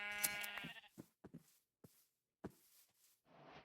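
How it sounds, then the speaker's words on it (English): Minecraft sheep bleating, one loud harmonic bleat up front followed by a string of shorter, softer calls with brief gaps, no talk. "Gosh, there's a lot of sheep."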